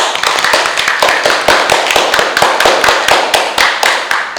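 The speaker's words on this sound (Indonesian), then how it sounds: "Tepuk tangan dulu." A classroom of students applauds, steady overlapping claps filling the room at full volume throughout, with no talking.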